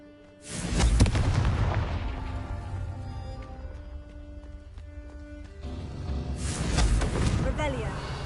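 Two heavy booming blasts from the Confringo spell in the video game Hogwarts Legacy, one near the start and one toward the end, each with a long rumbling decay, a voice audible between them.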